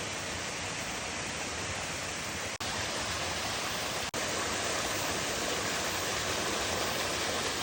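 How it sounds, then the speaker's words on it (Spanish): Yungu waterfall in Mureung Valley, Korea, pours as a loud, steady, unbroken roar of falling water heard up close, with no voices. "Y acabo de llegar finalmente a la cascada de Yungu."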